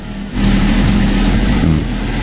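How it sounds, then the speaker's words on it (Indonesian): A car engine idles steadily just after being started, a loud continuous low hum with no voices. "Nah ini mesin udah dinyalakan ya teman-teman"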